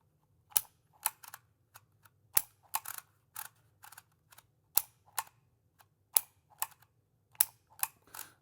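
A Dymo Omega label maker clicks and snaps sharply as it cuts label tape, a series of distinct mechanical clacks at uneven intervals, close and alone in a quiet room.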